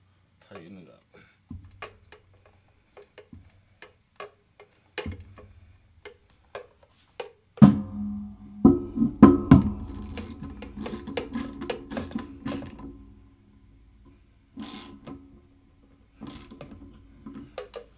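Parts of a Rock Island X4 Lion shotgun being tightened during reassembly, giving scattered close clicks, taps and rasping scrapes of metal, with a denser burst of handling and rubbing in the middle.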